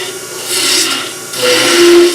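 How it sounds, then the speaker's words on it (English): A detail gouge shapes a wooden box spinning on a lathe, making a loud, close scraping hiss in two sustained cuts, with a faint tonal squeal at the end. "In shaping the outside of the box, I would switch over to a detail gouge"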